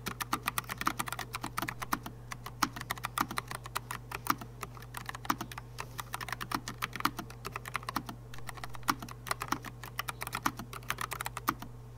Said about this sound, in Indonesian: walaupun tipis, sensasi kliknya masih sangat nyaman dan tactile